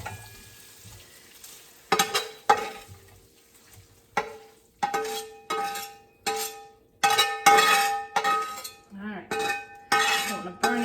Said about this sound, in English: So I'm going to just take this and I'm going to put it into our insulated serving bowl.